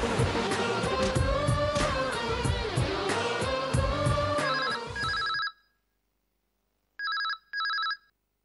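A telephone bell rings loudly over dramatic serial background music, then the music cuts out and two more short electronic ring bursts follow alone in silence.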